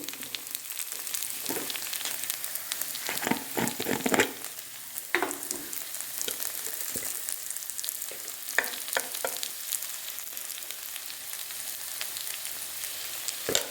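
Onion and garlic sautéing in oil with chili powder, a soft, constant sizzle broken by scattered scrapes and clicks of stirring, heaviest in the first few seconds.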